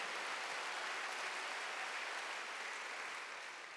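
A church congregation at a Sunday worship service claps together, a soft, distant, even wash of applause from a large room that fades slightly toward the end.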